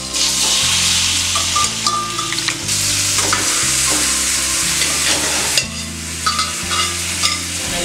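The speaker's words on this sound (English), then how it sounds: "We are now going to fry the chicken pieces so that they get a nice rich" Chicken pieces fry in butter in a hot pan, a loud steady sizzle close by with intermittent stirring scrapes and clinks and no speech.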